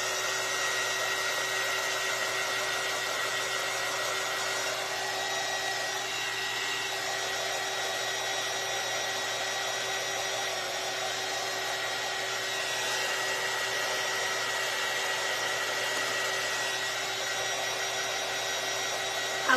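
A hair dryer runs steadily while drying painted watermelon crafts, a constant even whirring hum held at one pitch throughout, close and alone with no talking.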